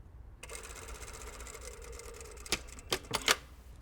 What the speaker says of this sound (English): Now I'm going to sew down both ends.